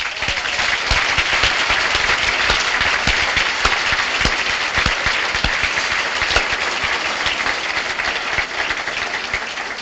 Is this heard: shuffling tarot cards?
no